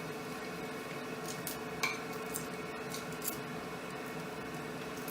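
A spoon stirs a sugar and glucose mixture in a pan for fruit jellies, making soft, steady scraping with occasional light metallic taps against a constant background hum.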